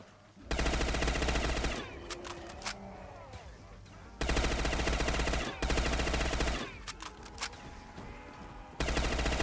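Rapid automatic gunfire from Black Ops 3 custom zombies play, loud sustained bursts broken by short gaps, with faint voices and game effects between volleys.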